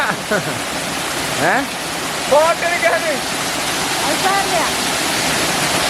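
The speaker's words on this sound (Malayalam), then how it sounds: "ഇവിടെ ചാടുണ്ട് വെള്ളച്ചാട്ടം ഇതും നല്ല സ്ട്രോങ് ആയിട്ട് ചാടുന്നുണ്ട്" A strongly falling waterfall roars steadily among rocks, a continuous broadband rush with a few brief voices and bird-like chirps over it.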